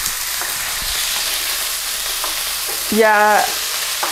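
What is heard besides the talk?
stirring food frying in oil in a pan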